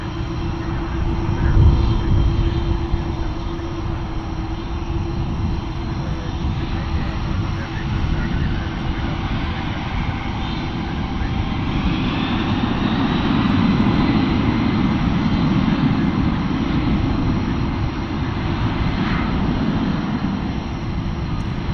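A McDonnell Douglas MD-11 jet takes off from Dallas Fort Worth International Airport, its broad engine roar holding steady and fairly close throughout, swelling slightly toward the middle as the sound builds, with occasional talk faintly underneath.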